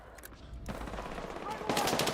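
Rapid automatic gunfire in Battlefield 6, fairly faint bursts that swell louder toward the end, running under a player's talk.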